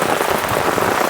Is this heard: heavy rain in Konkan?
yes